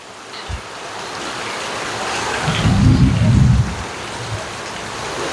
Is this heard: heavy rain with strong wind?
yes